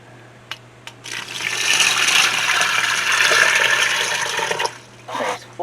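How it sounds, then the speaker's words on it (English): Water gushes in a steady, loud rush into an Instant Pot holding beans for about three and a half seconds, then tapers off into a few short splashes. "Now I'm going to add 8 cups of water."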